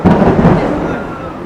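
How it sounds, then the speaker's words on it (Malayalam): Thunder rolls as a loud, deep rumble that is strongest at the start and then slowly fades over a second and a half, with no voices over it. "ഇടി കുടുങ്ങുന്നു."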